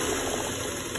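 Sewing machine stitching a seam on a Pakistani straight salwar, a close, steady mechanical whir and rattle running continuously through the brief moment.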